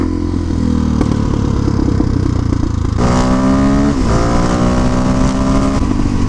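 Freshly built car engine revving on a snowy day, a loud continuous roar that climbs in pitch, drops back, then rises again in sweeping gear-like pulls, with no talk over it.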